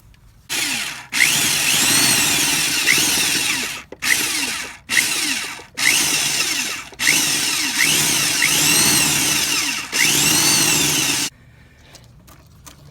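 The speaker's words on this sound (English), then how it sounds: "After you got your holes drilled" A power drill boring holes in a Jeep Cherokee's engine bay to relocate the ignition coil, loud and close, whining in several long bursts with short pauses between, then stopping.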